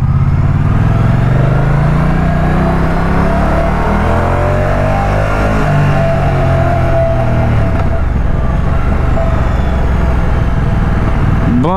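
A 2024 Moto Guzzi Stelvio motorcycle engine pulls hard under acceleration, a loud, continuous close-up roar whose pitch rises and falls through the gears with heavy wind rumble throughout.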